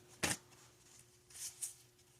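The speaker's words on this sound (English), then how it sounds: "This is a really big deck, and I do need to give it just a quick shuffle." A large tarot card deck being shuffled by hand, one sharp riffle burst followed by two softer, quicker shuffling bursts, close up and quiet with no talk.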